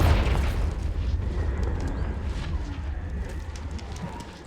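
A Confringo spell explosion in Hogwarts Legacy lands as a deep rumbling boom right at the start, then a long crackling roar that slowly fades, with no voices over it.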